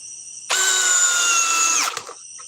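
A Ryobi power drill spins up at its first speed setting, a steady close whine held for about a second and a half before winding down abruptly, with quiet surroundings before and after.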